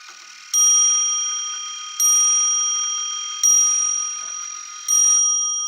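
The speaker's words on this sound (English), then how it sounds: "And this will be the 4 o'clock chime." A 1960 Neuchatel mantel clock chimes four o'clock: four clear, ringing bell strikes evenly spaced about one and a half seconds apart, each decaying slowly into the next, close and alone.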